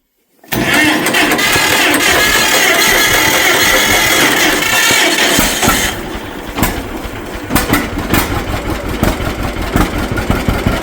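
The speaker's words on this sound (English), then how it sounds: "The tractor didn't want to start for a minute, but that starter was fantastic." An antique tractor with a repaired starter cranking loudly and close for several seconds, then catching and settling into a lumpy, uneven running rhythm.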